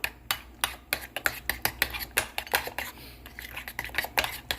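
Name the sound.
stirring burger mixture with a utensil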